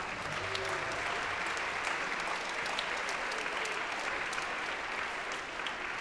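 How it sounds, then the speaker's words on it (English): An audience at an MLK Day community celebration applauds steadily, a dense wash of many hands clapping continuously at even volume for several seconds, with no cheering standing out. "Let's give them a round of applause."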